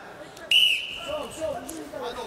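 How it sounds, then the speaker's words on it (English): Referee's whistle at a Greco-Roman wrestling bronze medal match, 80 kg class: one sharp, loud shrill blast lasting about a quarter second, trailing into a faint tone, followed by quieter arena crowd noise and murmuring voices. "Wait the whistle."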